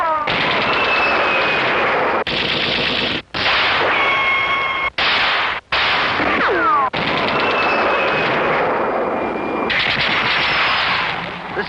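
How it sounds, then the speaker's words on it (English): Toy Sound of Power military and Western rifles by Marks fire loud, continuous battle effects: rapid gunshot bursts and machine-gun rattle, with whistling ricochets and descending shell-like tones, broken only by a few very short gaps. "Every shot, every battle sound was from the Sound of Power military and Western rifles by Marks."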